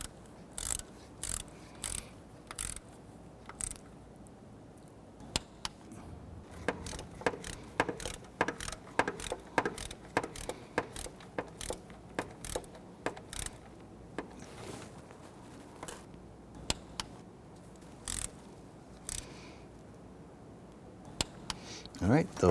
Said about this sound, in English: we can just torque those down normally to 82 inch-pounds as well